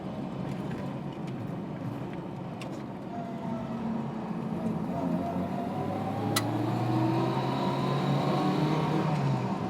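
A small 1960s Honda S600 coupe engine revs high and hard at low road speed, a steady buzzing drone rising in pitch over the sound of driving, close and loud throughout.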